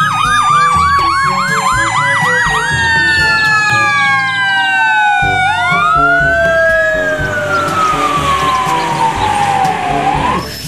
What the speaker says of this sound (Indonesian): Wah, ini mobil pemadam kebakaran.